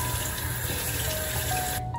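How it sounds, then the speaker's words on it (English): A tap runs steadily into a sink as hands are washed with soap and water, a continuous close gushing that stops abruptly at the end, with no talking. "You're gonna wash your hands with soap and water."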